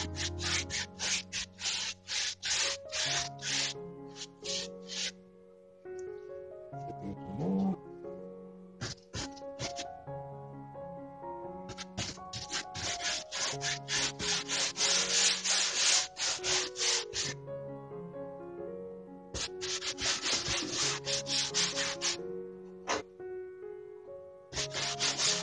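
Brush scrubs liquid white onto a canvas for an oil painting of a fall mountain scene, a close, rhythmic scratchy rubbing in quick strokes with short pauses between bursts.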